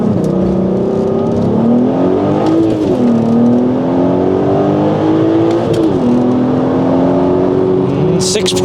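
A Volkswagen Golf R32 accelerates hard on a timed run. Loud, sustained engine roar climbs in pitch, drops briefly at each gear change, then climbs again. Heard close from inside the car, under some speech.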